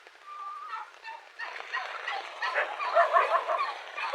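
A turkey gobbles in rapid, rattling bursts, fairly close and steady, with a few higher calls in between and no talking.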